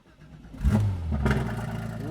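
A Porsche GT3 RS with a custom exhaust cranks and fires up, the engine catching with a sharp bark and then settling into a loud, throaty idle close by, with a voice briefly audible.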